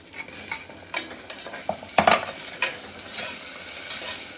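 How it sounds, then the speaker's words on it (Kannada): Chicken biryani masala with tomato being stirred in a pressure cooker: close, irregular scraping strokes and utensil knocks over a soft, steady sizzle, with no voices. "ಮಿಕ್ಸ್ ಮಾಡಿ ಎಲ್ಲ ಚೆನ್ನಾಗಿ"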